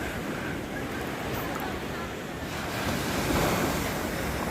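Sea waves rolling over a reef, a loud, continuous wash of surf close by, with wind buffeting the microphone and a gradual swell in strength toward the end.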